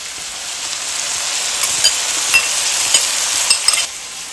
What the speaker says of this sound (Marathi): सगळं छान मिक्स करून घ्यायचं